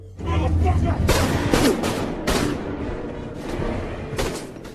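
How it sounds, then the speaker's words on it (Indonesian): Firecrackers bursting and gunfire in a heist film scene, a rapid run of loud sharp bangs and cracks in close succession, with a few isolated shots following, under a voice narrating. "tiba-tiba petasan meledak dan Gabriel langsung menembaki Jacob."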